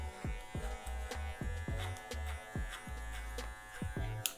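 An electric hair clipper buzzes steadily while cutting a fade haircut, its close, continuous hum pulsing rhythmically with each pass through the hair, with no voices.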